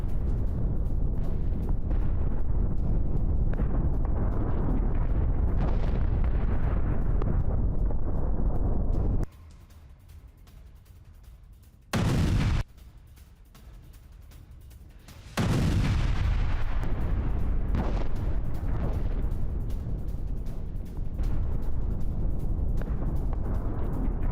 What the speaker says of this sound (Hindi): भारी संख्या में गोला बारूद के साथ MLRS नष्ट हुआ